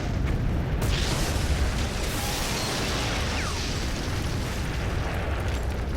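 An explosion in the video game Prototype opens with a loud burst, then a dense, continuous rumble and debris roar that fills the whole stretch with no talk.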